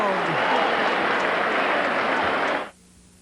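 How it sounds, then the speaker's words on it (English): A boxing arena crowd at a light heavyweight bout roars and applauds in a loud, sustained wall of noise that cuts off abruptly near the end. "Listen to that crowd."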